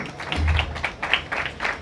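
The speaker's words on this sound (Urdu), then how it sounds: "مسز راحت کے لیے زوردار تالیاں بجائیں گے" A congregation at a Sunday church service breaks into applause, producing a dense patter of clapping that pulses unevenly for nearly two seconds.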